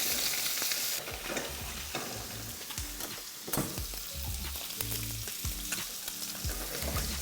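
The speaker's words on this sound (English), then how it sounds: "Super hot pan. And you're just going to sear these super, super quick." Scallops searing in a very hot pan, a loud, steady sizzle with bursts of crackle and spitting fat, heard up close with no talking.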